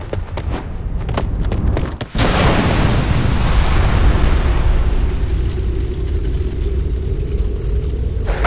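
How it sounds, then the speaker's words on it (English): A bomb blows up in the video game Ghost Recon: Future Soldier, a loud sudden blast followed by a long, heavy rumble that lingers for several seconds. "Bomb, get clear, get clear!"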